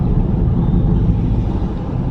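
A 2019 Dodge Charger R/T Daytona with a muffler delete, its exhaust giving a loud, deep, steady rumble that stays close and constant for the whole stretch with no talking.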